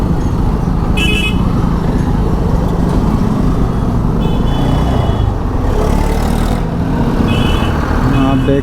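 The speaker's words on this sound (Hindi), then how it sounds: "आप देख सकते हैं कितना ट्रैफिक है" Busy Indian highway traffic near Agra and Aligarh, heard from a vehicle on a road trip: a loud, constant engine and road rumble with several short horn toots from surrounding vehicles.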